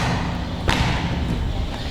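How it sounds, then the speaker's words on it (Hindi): A single hollow thud from a tap on the floor of the Tomb of Mariam Zamani in Agra, a stone floor with an empty space beneath, heard once near the middle over a steady background hum. "ये जो आवाज़ है ये खोखलेपन की आवाज़ है।"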